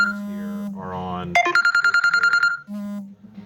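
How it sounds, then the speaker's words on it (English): An incoming call on a phone sets off a loud close ringtone, a rapid repeating electronic melody that sounds briefly between bursts of other tones in a pinball repair workshop. "Sorry, I'm getting phone calls here."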